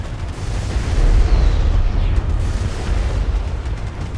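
An orbital platform firing on the player's ship in the space combat game Strike Suit Zero, a continuous heavy rumbling barrage of low booms and blasts that swells and rolls without pause.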